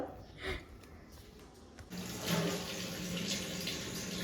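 Water is poured from a tap into gram flour mixed with turmeric, a soft splashing stream that starts after a faint clatter and runs steadily at low level.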